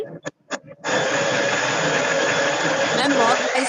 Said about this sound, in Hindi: मिक्सी चला रहा है उसकी आवाज